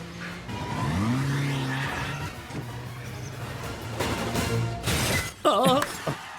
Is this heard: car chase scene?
yes